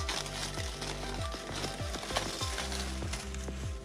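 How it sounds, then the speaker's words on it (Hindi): Mutton for biryani being stirred together with yogurt, garam masala, fried onions and oil, giving a busy wet sizzle with repeated scraping strokes, close and steady with no talking. "ये देखें ये हमारा गोश्त हो गया, इसको थोड़ा और मिक्स कर लेंगे।"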